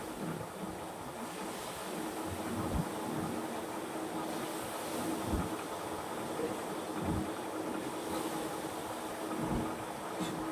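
Tomato masala fries in a pan for a spicy tangra fish curry, giving a steady, close sizzling hiss with soft low bumps now and then. No one talks.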